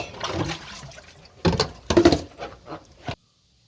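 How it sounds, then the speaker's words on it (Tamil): Mussels being washed in plenty of water, rinsed two or three times: close splashing and sloshing in uneven bursts, with a few sharper swishes before it abruptly stops. "நிறைய தண்ணி வச்சு ரெண்டு மூணு வாட்டி தண்ணி வச்சு நல்லா கழுவி எடுத்து"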